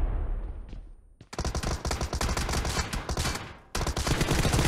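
Automatic gunfire in the battle-royale shooter BGMI, with loud, dense bursts of rapid shots that run almost without a break after a short quiet lead-in.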